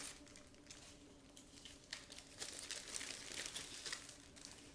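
Crinkly plastic rustling and crackling close by as a plastic bag holding two plastic model-kit sprues is opened, continuous for several seconds with louder bursts of crumpling toward the end.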